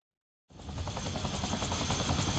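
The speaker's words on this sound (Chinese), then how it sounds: "好，直升机嚟喎" In the video game Dead Rising, an arriving helicopter suddenly starts after a brief silence as a loud, continuous rotor and engine roar with a rapid thumping pulse that holds steady to the end.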